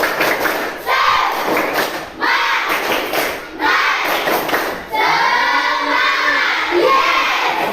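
A group of students or teachers does a rhythmic spirit clap in an Indonesian classroom, loud clustered claps and thumps in repeated bursts mixed with group chanting voices.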